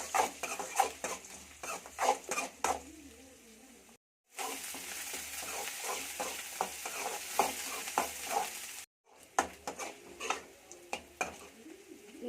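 Small onions with curry leaves frying in oil for a chicken fry, a soft steady sizzle broken by repeated scraping stirs of a spoon against the pan, two brief silent gaps between.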